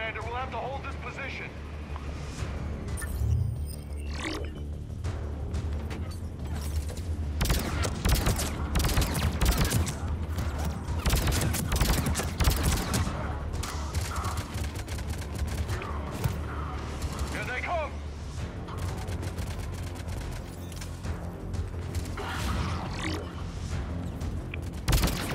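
Video game gunfire from Mass Effect 3 rattles in dense bursts throughout a combat scene, loud and continuous, with a player talking over the shooting.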